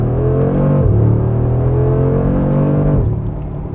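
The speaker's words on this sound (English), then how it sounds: "as soon as you accelerate, you get that kind of spitfire, angry lion noise coming from those side exhausts" A 2021 Mercedes-AMG G63 accelerates hard with a loud, continuous roar from its side exhausts, its engine note rising and then dropping twice as it shifts, close and steady with no voices.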